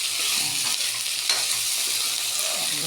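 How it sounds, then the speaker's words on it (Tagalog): Potatoes sizzle and fry steadily in a little oil in a pan, a continuous hiss with repeated scraping stirring strokes close by, no voices. "Luto-lutoin natin ng konti ang patatas."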